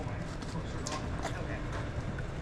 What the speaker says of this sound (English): nice little roan horse showing its stuff out there